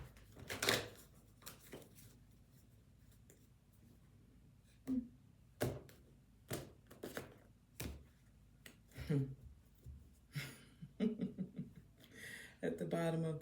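A deck of tarot cards is shuffled in short, soft bursts at irregular intervals during a quiet indoor reading, with faint voice sounds between the shuffles.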